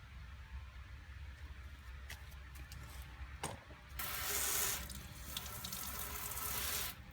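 Lettuce roots freshly pulled from potting mix rinsed under a running faucet, with faint handling noises at first and then a steady, loud rush of tap water over the last few seconds.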